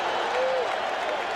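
Large stadium crowd at a 1986 World Series game between the Boston Red Sox and New York Mets, roaring and cheering in a dense, steady wash of noise that holds loud throughout.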